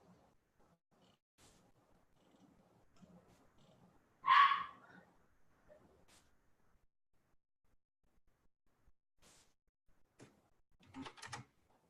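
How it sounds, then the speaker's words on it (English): A dog lets out one sharp bark in a quiet room, followed later by a few soft clicks and a brief cluster of rattling taps. "Oh my gosh, my dog's freaking out."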